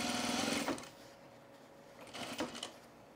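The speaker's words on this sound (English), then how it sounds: "Now switch to my basting stitch the rest of the way." A sewing machine sews a long basting stitch on men's cargo shorts, running steadily and close, then pausing before a shorter second burst, with light mechanical clicks.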